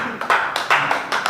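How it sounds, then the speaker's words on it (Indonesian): A church congregation gives brief applause during a service, several bursts of hand clapping in quick succession, fairly close and loud. "Tepuk tangan untuk Tuhan Yesus."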